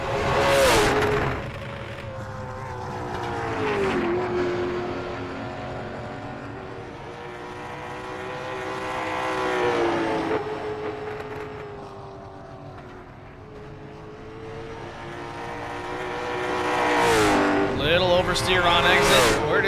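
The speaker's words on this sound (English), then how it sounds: "JJ Day now on the backstretch, about to take the green on his first lap" A race car engine in a sim racing video game at North Wilkesboro drones steadily at high revs, dipping and climbing through corners along the lap, with a commentator talking over it.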